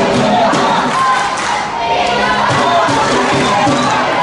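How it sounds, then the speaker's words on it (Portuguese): A large crowd of American football fans roars and cheers steadily throughout, a dense wall of voices with scattered shouts and claps, sounding like a packed stadium during a Storm versus Corinthians game in 2018. "barulho da torcida"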